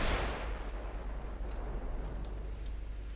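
A main gun shell hit in the naval battle game Ultimate Admiral Dreadnoughts lands as a sharp explosive burst, followed by a rumbling low decay and faint distant crackles, with no talk.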